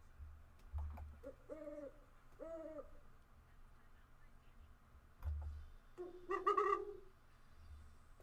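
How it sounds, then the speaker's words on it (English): An owl hoot sound effect plays during a live CFL football play-by-play stream: two short, moderately loud hooting calls come early, then a longer, louder warbling hoot near the end over a low background rumble. "Do I have any owl sound effects?"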